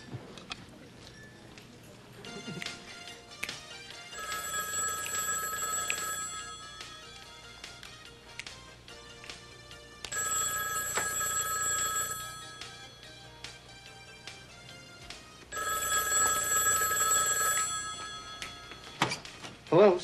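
A home telephone rings in three separate bursts of ringing, moderately loud and spaced several seconds apart, with quiet room background between them.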